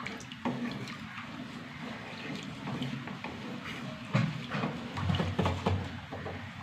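More hot water splashes into a clay pot of simmering fish curry, a close, steady pouring wash with a few heavier gurgles and knocks toward the end.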